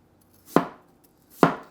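A knife chops an onion on a cutting board in two distinct, crisp thuds about a second apart, close and isolated against near silence.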